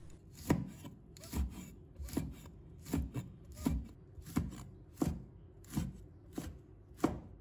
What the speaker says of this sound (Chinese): 再准备几个小米椒，把它切成小圈。